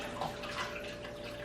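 Broth poured into a pot while making udon in Japan, a soft, steady liquid splash and trickle heard close up, with no voices.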